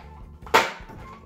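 A toy missile launcher fires a dart with a single sharp pop and snap, heard close and fairly quiet, with a faint room tail after it.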